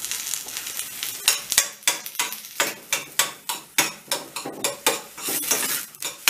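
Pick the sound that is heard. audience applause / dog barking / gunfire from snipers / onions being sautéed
onions being sautéed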